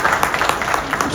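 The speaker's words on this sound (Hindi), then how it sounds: "तालियां बजती रहनी चाहिए बहुत देर तक।" Audience clapping at an awards ceremony, a brief burst of loud, rhythmic applause close by.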